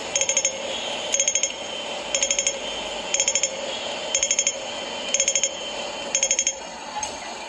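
A Hong Kong pedestrian crossing signal sounds on a busy street: seven evenly spaced bursts of rapid, bright electronic ticks, each roughly a second apart, cut cleanly through a steady backdrop of city traffic noise.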